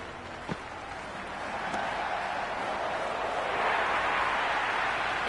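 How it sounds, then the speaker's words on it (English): Stadium crowd at a T20 World Cup cricket match between India and Australia, a broad steady roar of cheering and applause that swells louder toward the end, with one sharp knock early on. "The crowd is electric right now."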